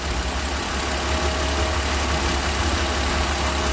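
A car engine running nearly out of fuel idles steadily nearby, slightly sluggish, a constant dense mechanical hum with a faint uneven low throb.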